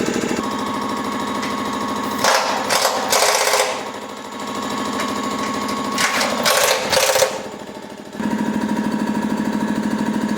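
A Honda Brio's jumping rod bush clip is tightened in a mechanic's workshop, with bursts of rapid rattling power-tool hammering that start and stop over a constant background hum.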